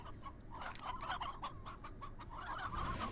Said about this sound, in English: right now I don't need all these fucking chickens running around